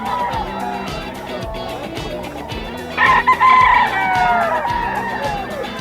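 Stag roosters crow at a bustling pet market in Bocaue, several loud crows with clucking nearby over a steady crowd murmur and voices in the background.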